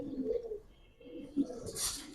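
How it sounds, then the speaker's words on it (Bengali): A male giribaz pigeon with black plumage coos softly a few times at close range, faint and alone against a quiet loft background. "এটা একটা নর কবুতর"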